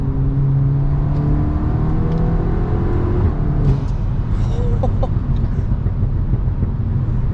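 Volkswagen Golf R engine revving loudly and continuously, with tonal harmonics rising and falling and scattered exhaust pops and crackles later on.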